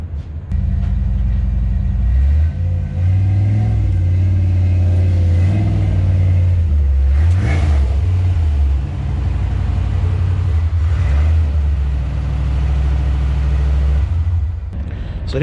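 Fox Body Mustang project drag car firing up with a loud close V8 bark, then a rough lopey idle broken by sharp throttle blips and revs that rise and fall for several seconds.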